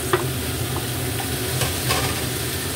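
Tomatoes sautéing in a pan for a home-style Filipino shrimp sarsiado with garlic, onion and ginger, a steady close sizzle under repeated scraping stir strokes, with no talk.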